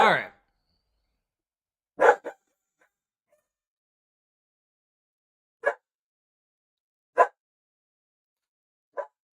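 A pet dog indoors gives a handful of short, sharp barks spaced several seconds apart, with a loud burst at the start, a close double bark after about two seconds, then single barks; someone talks softly in between.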